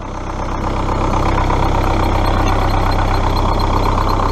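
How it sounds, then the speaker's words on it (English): A cold Rover 75 car engine idles steadily and continuously, a low rumbling drone close by with no other sounds. "Cold engine."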